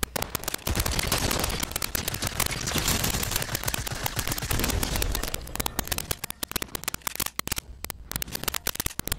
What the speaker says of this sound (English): Who are they shooting at, though?